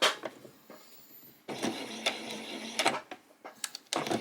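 Domestic sewing machine running a back stitch around the edge of a child's peasant skirt: short whirring bursts of stitching separated by pauses, with faint handling clicks and a longer steady run in the middle.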